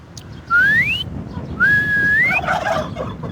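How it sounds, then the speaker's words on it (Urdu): A man blows two rising whistles, and a turkey answers each with a sharp burst of gobbling. The sounds are close, with a faint hum underneath. "یہ ہے ٹرکی پیرو جسے کہتے ہیں، اور یہ بولتا ہے میری سیٹی پہ"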